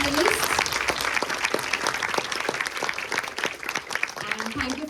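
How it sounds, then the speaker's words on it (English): Audience at a 2025 panel discussion applauds the panelists, a steady dense clapping that fills the room throughout, with some voices and cheering mixed in. "a big cheer for our panelists"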